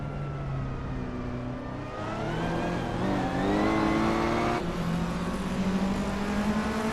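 Race cars in a racing video game launching at the start on the Jerez Retro Track, including a 1984 Ferrari 288 GTO Evoluzione, engines revving and climbing in pitch with overlapping whining tones, loud and close, no talk.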